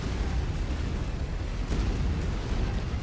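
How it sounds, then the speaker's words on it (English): Game-world ammo explosion from a mech in MechWarrior 5: Mercenaries, a dense sustained rumbling blast lasting the whole few seconds with a couple of brief sharper bursts and no talk. "It's funny that you experience an ammo explosion."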